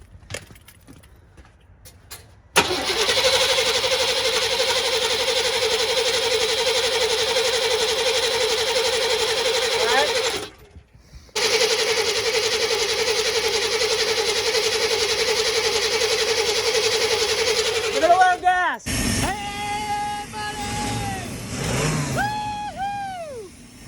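A 1987 Chevy Silverado that sat for six years, its starter cranking in a long steady whir, pausing, cranking again, then the engine catching with sputters and rising revs.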